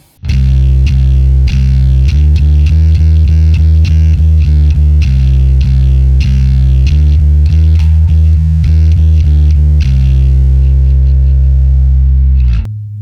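A heavily distorted electric bass riff, played slowly, with thick low sustained notes and rhythmic chugging, loud and close with no voices.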